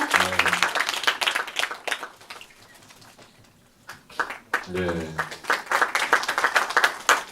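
A hall audience claps at a Catholic film festival award ceremony, first as a certificate is handed over and then again after a short lull. A presenter's voice speaks between and over the bursts of clapping.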